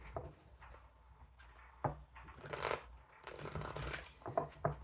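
Tarot cards being shuffled by hand at close range, soft riffling and papery slides with a few sharper snaps and taps in quick uneven bursts, fairly quiet with no talking.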